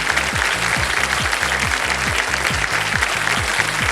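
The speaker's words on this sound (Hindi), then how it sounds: "जनता ने आने से पहले ही ताली बजा दी" Steady, dense studio-audience applause on a quiz game show, continuous clapping over a rhythmic low musical pulse.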